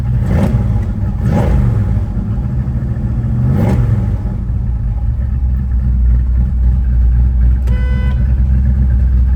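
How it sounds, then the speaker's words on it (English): Deep exhaust rumble of a 1967 Ford Mustang Fastback with a 392 V8 at idle, broken by several sharp throttle revs that rise and fall, loud and close. "The exhaust is just sinister."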